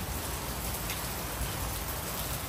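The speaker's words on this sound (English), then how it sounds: "Look at the entire pretty but very rainy situation here." Steady rain falling around an outdoor pool area at a villa in Goa, a dense even hiss that continues without pause and without voices.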